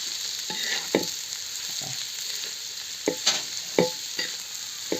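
Mohta vegetable bhaji frying in a pan gives a steady close sizzle, broken by several sharp scraping clacks of a spatula stirring, with no voices.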